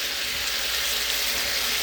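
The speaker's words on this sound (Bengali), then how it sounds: "হঠাৎই আমি সবজিটা ভেজে নিই।" Vegetables frying in a pan for khichuri, a steady close hiss of oil sizzling without pause.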